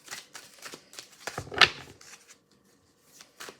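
Tarot cards tap and shuffle on a bare table in close, light irregular clicks and rustles, with one sharper snap partway through and quiet gaps between.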